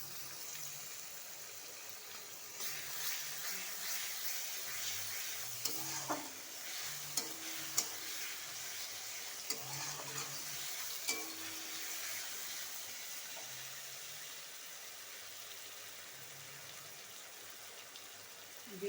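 Garlic paste sizzles in mutton fat in a pan while ghugni is being cooked, giving a continuous close frying hiss with scattered sharper pops and occasional clinks of a spoon, and no voices.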